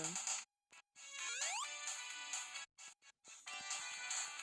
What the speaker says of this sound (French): Encore une notification de YouTube.